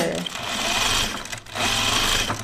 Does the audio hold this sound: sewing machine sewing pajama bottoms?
yes